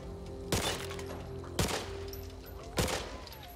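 Three loud gunshots, evenly spaced about a second apart, fired at barrels and cans on the shooting range in the game Back 4 Blood, each with a sharp crack and a ringing tail over a steady hum.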